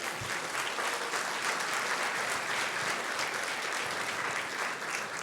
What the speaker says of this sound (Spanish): de la distancia daremos un fuerte aplauso a nuestro querido pastor